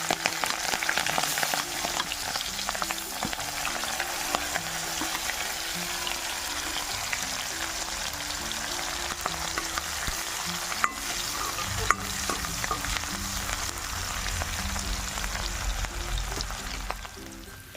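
Onions fry in oil in a pan just used for frying fish. A dense, continuous sizzle crackles loudly throughout, with occasional clicks and scrapes of stirring and no voices.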